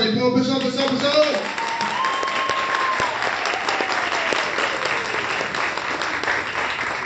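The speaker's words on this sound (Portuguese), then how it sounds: "Uma salva de palmas, pessoal!" Audience applause at a Brazilian stand-up comedy show, a sustained burst of clapping from the crowd with a voice briefly audible over it at the start.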